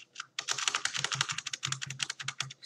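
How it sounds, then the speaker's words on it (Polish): Rapid, frantic key-mashing on a computer keyboard during a Sky Factory 4 Minecraft session, a dense run of loud clattering keystrokes with a brief gap near the start and no talking. "Spam klawiatury, co nie?"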